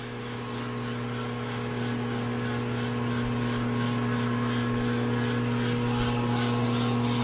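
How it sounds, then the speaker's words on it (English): A grinding machine works on a Norton motorcycle crankshaft, giving a steady, unbroken mechanical drone with a constant motor hum and no pauses. "Now we can finally actually grind that crankshaft."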